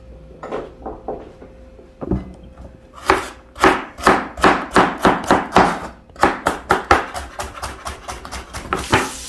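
Vegetables are chopped on a board for chicken noodle soup, a close series of sharp knife strikes that start sparse and then fall into a quick, steady rhythm of about a dozen cuts.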